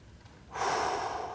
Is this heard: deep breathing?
yes